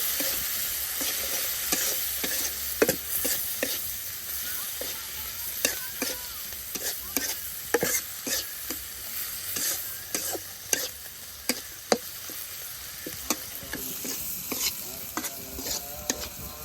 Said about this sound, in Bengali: চিংড়ি মাছ চিংড়ি মাছটাও খুব ভালোভাবে বেজে নেই